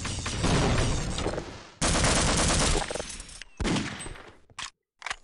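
Sustained automatic gunfire in the video game Half-Life: Opposing Force, dense loud bursts in long stretches with brief breaks, ending in a few short clipped bursts.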